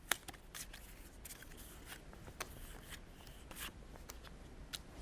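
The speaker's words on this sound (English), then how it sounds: "I shuffle it and then let me distribute it again." Playing cards are shuffled by hand during a demonstration, giving a quick run of soft riffling and flicking bursts, close and fairly quiet, with no talking over it.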